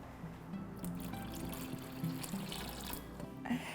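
Liquid vermicompost tea is poured into a container of water for a microgreens setup, giving a steady close trickle and splash that runs throughout before easing off near the end.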